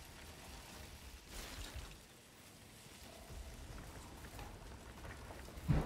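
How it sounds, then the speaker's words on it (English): Steady heavy rain hisses outside throughout, a dense broadband wash with brief louder surges, fairly quiet and with no voices. "it's raining outside heavily"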